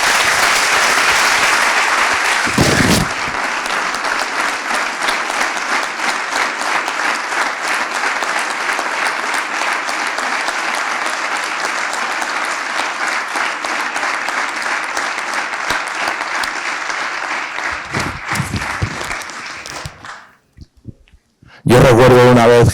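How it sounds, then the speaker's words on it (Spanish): Sustained applause from a conference audience fills most of the span, loud and dense. Brief breaks in the clapping come near the start and the end, and the final seconds fade to near silence with a short tonal sound. "Yo pido un aplauso para ellos."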